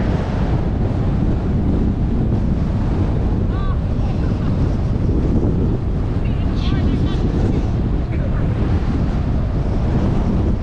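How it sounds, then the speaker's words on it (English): Strong wind buffets the microphone continuously, roaring and rumbling, with surf or water faintly beneath and a few faint voices in the background, at Black Rock Forest, New York. "It's windy!"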